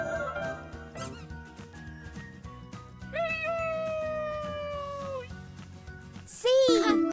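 A cat meows in a sustained, gliding call followed by a shorter, brighter meow near the end, set against a bouncy children's alphabet tune with a voice.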